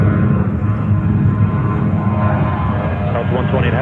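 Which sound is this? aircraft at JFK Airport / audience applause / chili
aircraft at JFK Airport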